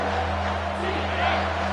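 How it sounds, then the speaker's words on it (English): Steady roar of a stadium crowd in an American football video game on a third-down play, a dense, continuous wash of cheering without pauses, with a low hum beneath. "this crowd will blow out a vocal cord to help this defense"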